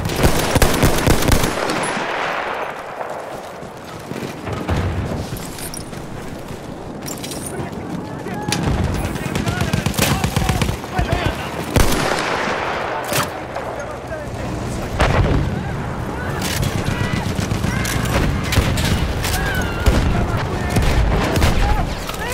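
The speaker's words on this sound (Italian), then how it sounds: "Mitragliatrice," Enemy machine gun fire in Battlefield 1 on the Monte Grappa map, loud rattling bursts mixed with booming explosions and battlefield chaos, with a voice calling out over the gunfire.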